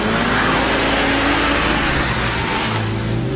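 A 301-horsepower Ford Focus RS engine drones loudly and steadily, rising slightly as it revs, heard up close from the car with no talking.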